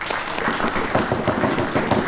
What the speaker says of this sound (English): Give yourselves a round of applause if you like.